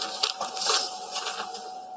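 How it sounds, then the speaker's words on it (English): A printer running in a courtroom, printing an exhibit image: about two seconds of steady whirring mechanical noise with soft pulsing surges, close by and with no talking over it. "Once you hear the printer"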